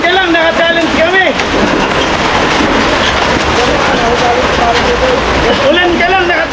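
Heavy rain pounds a corrugated galvanized iron roof on a house, making a dense, steady, loud roar that runs the whole time while several voices talk and call out over it.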